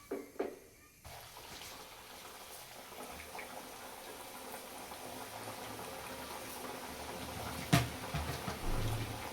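Wheat-flour biscuits fry in hot oil with a continuous soft bubbling sizzle, close and steady, after a couple of brief knocks at the start and a few sharper pops later on.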